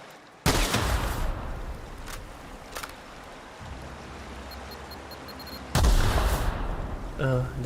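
Loud booming video game gunfire from The Outer Worlds bursts out abruptly, with short sharp cracks between shots and a muffled rumble that lingers after each blast.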